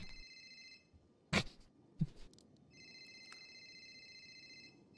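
A telephone rings in repeated electronic trills, pausing briefly between bursts, with a couple of sharp knocks in the gap.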